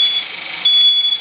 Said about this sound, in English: So Dan's got a smoke alarm in his hand here.